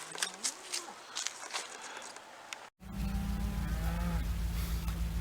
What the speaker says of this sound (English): And there's the cows.